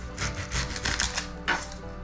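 Serrated knife peeling an onion for a traditional Brazilian collard-green bundle recipe: a run of close, crisp scraping and tapping strokes, fairly steady, with no talk.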